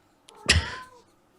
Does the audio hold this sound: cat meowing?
yes